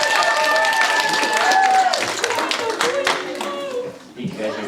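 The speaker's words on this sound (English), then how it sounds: "Give a round of applause for Scarlett." A middle school audience of students claps and cheers loudly at a science author's presentation, with an adult voice talking over the applause as it thins out toward the end.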